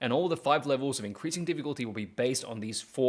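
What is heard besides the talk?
No distinct noise like a dog, phone or traffic.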